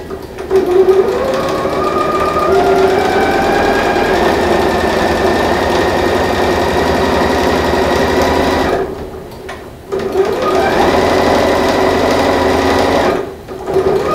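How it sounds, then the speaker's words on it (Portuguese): A sewing machine runs steadily, stitching a fabric strip for a manicure kit pouch, its motor whirring loud and continuous with two brief pauses near the end. "vou para a máquina de costura fazer pezinho de máquina aqui, ó."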